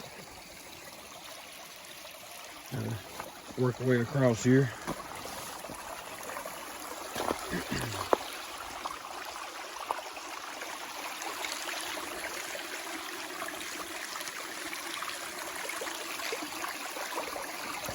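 Water trickles and flows steadily in a small drainage stream on the Appalachian Trail, a continuous soft wash under brief bits of speech and footsteps early on.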